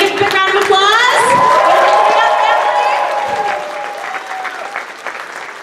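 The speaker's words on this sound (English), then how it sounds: "Everybody give a big round of applause." Loud applause from an audience at the opening press conference of Planet Comicon 2017 as a family is welcomed onto the stage. Steady clapping runs throughout with voices and cheering mixed in, easing off slightly toward the end.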